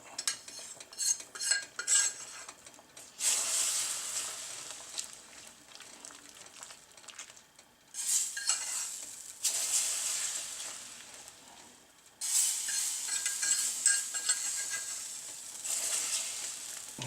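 Potatoes for potato soup sizzle and fry in a hot pan, with bursts of crackling and a utensil stirring and scraping against the pan, fairly quiet and close.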